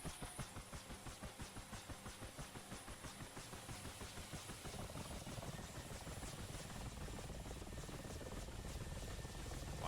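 In the DCS flight sim, a UH-1H Huey helicopter's rotor pulses in a steady, even beat over a continuous turbine whine that thickens toward the end, with no speech.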